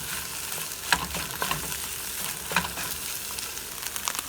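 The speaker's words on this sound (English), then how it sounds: "and nicely fry it up" Food fries in a pan with a continuous close sizzle, broken by occasional clatters from stirring, and no voices.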